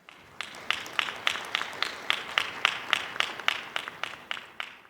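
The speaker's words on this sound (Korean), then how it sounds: "다시 한번 뜨거운 박수 부탁드리겠습니다" Applause from the audience at a ceremony for Disabled Persons' Day, a run of crisp, evenly spaced claps that fade slightly, fairly faint and with no talk.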